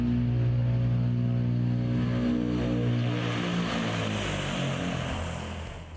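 Antonov An-22, the world's largest turboprop aircraft, with its propeller engines giving a loud, steady droning roar full of low harmonic tones, sustained throughout and easing slightly toward the end, with no voices.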